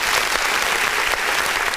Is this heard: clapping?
yes